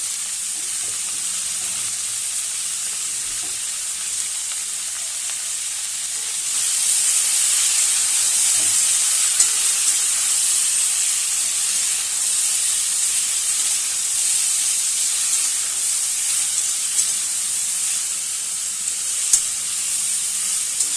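Green chilies sizzle in hot oil alongside potato in a pan, a steady close hiss throughout that swells louder after a few seconds, with no talk.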